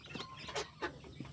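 Chickens cluck in short bursts while pecking at feed, several soft close calls within a second or so, with a light background hum.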